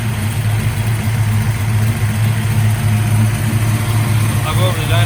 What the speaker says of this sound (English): It's been idling for a minute.